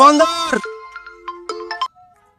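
A mobile phone ringtone plays a short series of electronic tones right after a person speaks, fairly clear and close, ending in a fading note.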